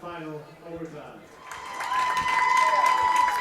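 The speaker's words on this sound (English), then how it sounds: "you can hear the Daring side cheering as Daring gets back out on the field" Crowd cheering and clapping at a Deering versus Gorham high school varsity boys' soccer game, swelling from quiet into a sustained, fairly loud roar of applause, with a voice talking near the start.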